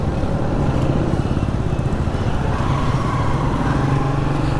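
Motorcycles, tricycles and cars pass in mixed town-centre traffic in Daet, Camarines, making a continuous, fairly loud drone of small engines with no voices.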